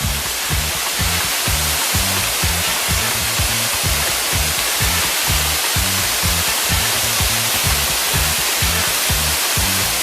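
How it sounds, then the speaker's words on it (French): A waterfall near the sea on the lush east coast of Réunion roars steadily and loudly, a dense unbroken rush of falling water with a faint low buffeting beneath it. "petit arrêt au pied d'une magnifique cascade"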